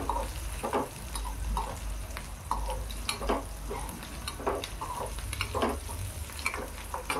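Onions sizzle and fry in a hot pan while a spoon stirs them in irregular scrapes, for a bottle gourd curry with moong dal; the steady close sizzle runs throughout with no talking.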